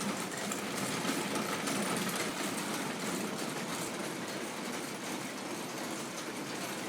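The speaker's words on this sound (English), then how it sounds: "The following video of wool weaving machines was captured at 24 frames per second." Wool weaving machines run in a busy mill, a steady, dense mechanical clatter and whir that fills the space evenly and never lets up, with no voices.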